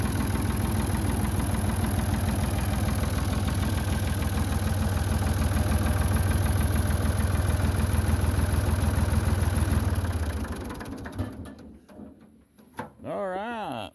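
A Ford 3000 tractor engine idles with a steady, loud rhythmic chug for about ten seconds, then shuts off and falls quiet apart from a few brief handling noises.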